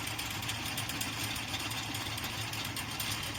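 A small mini extruder with a screw auger runs steadily, giving a constant rough mechanical drone at moderate loudness with no pauses.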